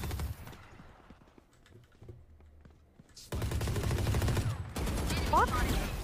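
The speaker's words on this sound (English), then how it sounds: "Why is he shooting at me?" Gunfire in the tactical shooter Valorant starts as faint, scattered pops under quiet keyboard clicks, then erupts into a loud, sustained burst of rapid shots over the final seconds.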